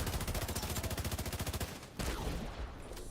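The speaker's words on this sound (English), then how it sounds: "Oh, that mortar is brutal." Mortar fire in a video game: a rapid run of loud, evenly spaced booming blasts for about two seconds, then a heavier explosive thud followed by rumbling debris, all close and dense.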